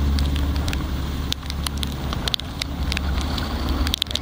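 A trawler crossing the rough, wave-tossed Payra river, its steady low engine drone continuous and near, with wind buffeting and splashing water crackling over it and sharp bursts of spray throughout.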